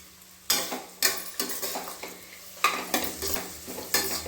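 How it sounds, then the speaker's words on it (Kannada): Onions frying in oil in a pan for a vegetable pulao, with a steady sizzle broken by repeated scraping strokes of a spoon stirring, close and fairly loud, no voices. "ಈ ಈರುಳ್ಳಿ ಬೇಯ್ತಾ ಇರಲಿ"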